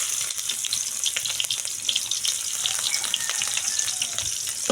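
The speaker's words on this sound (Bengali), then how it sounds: "কড়া বসিয়ে দিয়েছি, এখন আমি পেঁয়াজটা দিয়ে দেবো।" Onions sizzling loudly in a hot wok (karahi), a steady bright crackle with scattered pops and spatters, continuous and close with no talking.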